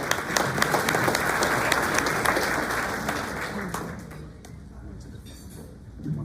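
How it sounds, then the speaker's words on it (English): An audience claps during a graduation ceremony, a steady wash of dense applause that thins out toward the end, with light crowd murmur underneath. "Let's give them a round of applause."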